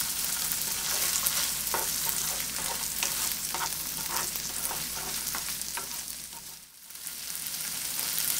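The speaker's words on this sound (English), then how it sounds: "That's why they call it stir fry. Because while it fries, you stir it." Peppers and other vegetables stir-frying in a hot pan, a loud continuous sizzle broken by repeated scrapes and taps of a utensil as they are stirred, briefly fading near the end.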